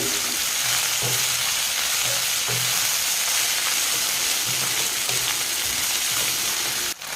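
Leafy greens sizzle steadily in a hot wok, with occasional stirring scrapes and a sharp clank near the end.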